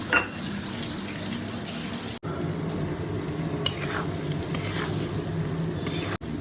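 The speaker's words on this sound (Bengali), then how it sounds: "এদিকে আলুকপিটা ভাজা হয়ে গেছে আলুটা ভাজ" Potato and cauliflower fry in a pan with a steady, close sizzle, broken by repeated scraping stirs and a few short gaps.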